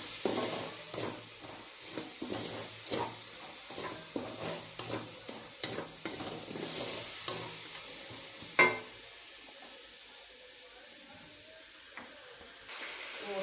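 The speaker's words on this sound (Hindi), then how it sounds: "प्याज हमारा ब्राउन होना शुरू हो गया, इसको थोड़ा सा और हम ब्राउन करेंगे।" Chopped onions, two medium ones, fry in oil in a karahi for chicken karahi, a steady sizzle broken by repeated scraping stirs for most of the stretch, then a quieter, even hiss after one sharp knock.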